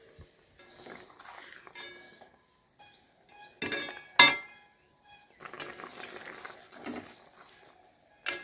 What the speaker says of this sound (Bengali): এবারে আমি দেখি ঢাকাটা তুলে।